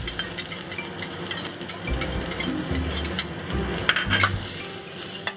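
Chopped ginger, garlic and pepper sizzle steadily in hot oil in a pan over medium-high heat, with a utensil stirring and scraping through the loud, continuous frying.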